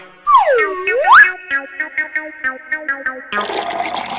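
A cartoon sound effect for water being brought and poured: a loud sliding whistle dips and rises, then a rhythmic series of bubbly glugging pulses follows before a short burst of splashing noise.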